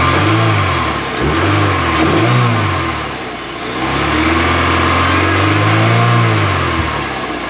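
Peugeot 306 GTi engine revving repeatedly after a knocking fault was fixed, loud and close, with several rising and falling revs over a steady running note, the old car running smoothly with no knocking.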